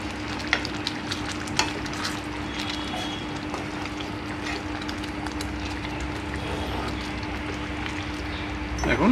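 Prawns cooked in milk are stirred together with fried onion and capsicum in a pan, giving a steady close sizzle with a low hum underneath and a few scraping strokes, and no voices.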